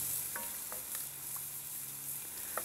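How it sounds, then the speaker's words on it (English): Heavy cream poured into a hot pan for redfish pontchartrain, a faint steady hiss and sizzle with a few small pops and bubbling crackles, soft and continuous. "I'll put in the heavy cream"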